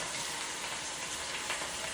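Fish deep-fries in hot oil as a dense, steady sizzle and crackle that fills the whole moment, close and constant with no talking.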